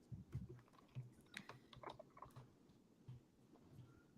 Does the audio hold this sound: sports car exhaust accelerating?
no